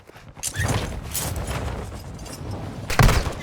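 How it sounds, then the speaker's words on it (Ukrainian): Gunfire in Call of Duty Warzone DMZ comes as a few separate shots and short bursts, some sharp and close and others duller, with the loudest crack near the end and ambient game noise in between. "справа постріли"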